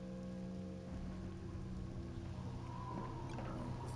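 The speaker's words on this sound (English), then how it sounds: "Too bad it's storming outside" Rainstorm outside in the VOTV game, a soft continuous patter of rain under a low steady hum and faint tonal background, quiet and unbroken with no voices.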